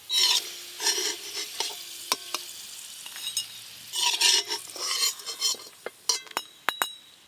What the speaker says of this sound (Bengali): স্লাইস করে আদা আর শুকনো লঙ্কা ভালো করে ভাজা হয়ে গেছে, তেল থেকে ছেঁকে তুলে নেব